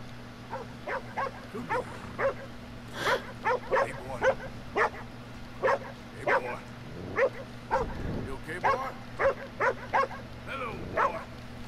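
Dogs bark repeatedly in Red Dead Redemption 2, a series of short yips and woofs at mid distance over a steady low hum, with brief voices and a horse-like rumble near the middle.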